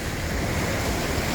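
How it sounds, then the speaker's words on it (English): Rough waves on Lake Superior surge and break in a steady, loud wash, with wind buffeting the microphone throughout. "the water has gotten pretty rough"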